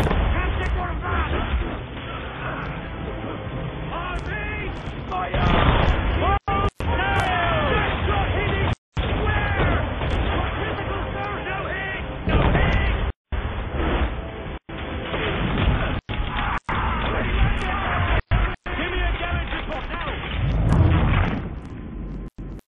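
Naval cannon broadsides in Assassin's Creed III, with heavy booming shots rolling over continuous crashing, wind and shouted battle chatter, loud and dense throughout, broken by a few brief gaps of silence.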